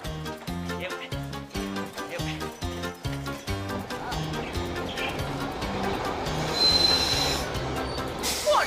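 A train clatters along with rhythmic wheel thumps over the rails, then settles into a steadier rumble with a metallic squeal rising near the end.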